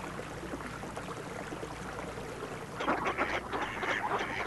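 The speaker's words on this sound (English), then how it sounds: "We have a large population of ducks that are full-time residents, like this male mallard." Mallard ducks, including a male, in a winter wildlife setting with a faint stream, give quacks and calls that swell into a louder, busier burst of honking near the end, with no talking.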